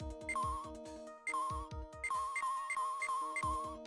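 A video-game telephone in Ace Attorney Trilogy rings in repeated short bright chimed bursts over a looping musical background, moderately quiet, with no talking.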